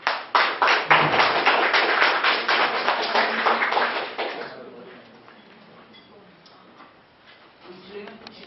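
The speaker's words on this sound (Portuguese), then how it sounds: "Por gentileza, com aplausos de vocês, Nilva Ferraro." An audience at a Luso-Brazilian poetry soirée claps for a poet in a dense round of applause that fades out after about four seconds. Quiet room sound and faint murmuring follow.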